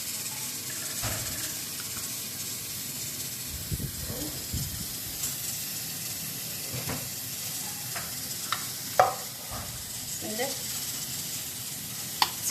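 Couscous stirred in a pot for traditional Moroccan hand-rolled couscous: a soft, steady scraping hiss runs throughout, with a few brief louder scrapes and knocks.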